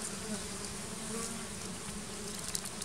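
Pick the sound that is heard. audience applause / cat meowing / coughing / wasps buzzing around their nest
wasps buzzing around their nest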